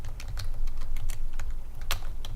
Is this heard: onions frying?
no